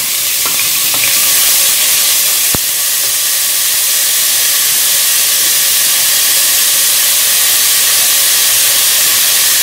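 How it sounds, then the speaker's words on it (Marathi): Onions sautéing in a pan for a Goan-style meat dal, a steady broad sizzle filling the whole stretch with light stirring clinks and one sharp tap early on, no voices. "आमी कांदो न्हू लायट गोल्डन ब्रावन जावसर ताका सॉटे करुया"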